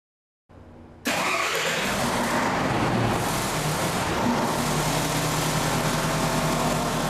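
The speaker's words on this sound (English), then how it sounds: "and then start up the engine" A controller-run generator engine starts with a brief cranking burst, then catches and settles into a loud, steady running roar that holds close and unbroken to the end, no voices.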